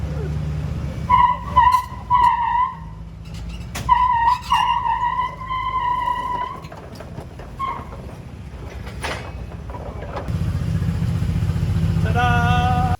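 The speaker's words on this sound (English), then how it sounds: "Now we're gonna lift it in the back with the forklift. While the Jeep pulls it from the front." A Jeep tows a snowcat from the front while a forklift lifts its rear, easing it back toward a shop: several sharp, squealing screeches come in bursts, then a steady, loud engine rumble with rising whines takes over near the end.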